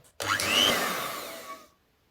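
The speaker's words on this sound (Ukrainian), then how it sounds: "Знову збиваю." A blender whirs on for about a second and a half, blending milk, cocoa and milk powder for homemade Nutella, a loud steady motorized whine that cuts off abruptly.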